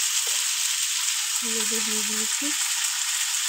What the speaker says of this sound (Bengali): জিরা ফোড়ন দিয়ে দিয়েছি। এবার আলু আর গাজরটা দিয়ে পরিমাণ মতো লবণ দিয়ে দিচ্ছি